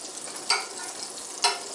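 Vegan organic butter sizzles in a pan while it is spread around, giving a steady frying hiss with two brief louder scrapes or stirs, close and without any talk.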